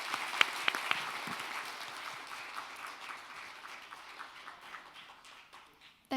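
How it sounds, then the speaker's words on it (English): Applause from a forum audience for the WTO Director-General: a few crisp close claps at the start over a steady, moderately loud crowd clapping that continues evenly and tails off near the end. "Please give a big applause for Dr."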